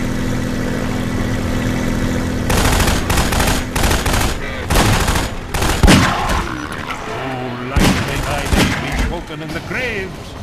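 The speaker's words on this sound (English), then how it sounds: "Shooting!" Gunfire from Half-Life 2 in Ravenholm: loud repeated shots and impacts in irregular bursts over an ongoing engine-like hum, with voices talking in the background.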